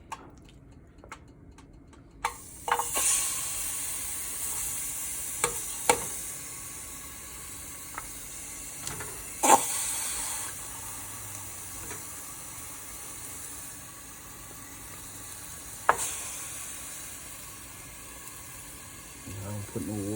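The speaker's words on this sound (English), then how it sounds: "Add the chicken to the pot." Chicken frying in hot oil in a pot for curry chicken, a soft steady sizzle and hiss with occasional sharp ticks and pops, fairly faint and close.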